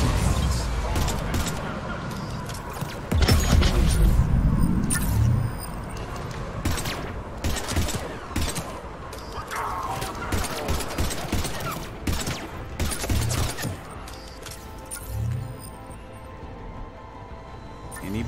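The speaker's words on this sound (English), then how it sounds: "And I'll try some cluster grenades." Cluster grenades going off in Mass Effect 3, in the Omega DLC fighting shielded Cerberus forces: a loud, dense burst of blasts and crackling impacts, followed by scattered booms and weapon fire.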